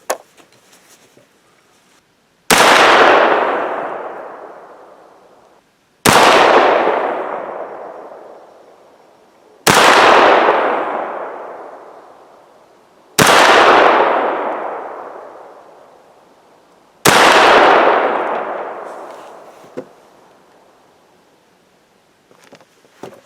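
Five loud, sharp reports from a 300 Blackout rifle firing lead bullets at a range, spaced a few seconds apart, each with a long fading decay, with a faint click between them.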